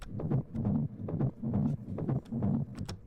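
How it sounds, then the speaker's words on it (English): A looping tribal percussion pattern of drums in a dance track, repeating in steady bars of about 0.8 seconds, with the sound opening and closing as a filter sweeps across it, loud and close with no talking. "is a loop, a tribal loop"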